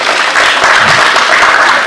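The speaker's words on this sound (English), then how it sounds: "Round of applause for him." Loud, dense audience applause fills a student venture capital grant launch event, a steady wash of many hands clapping together without a break.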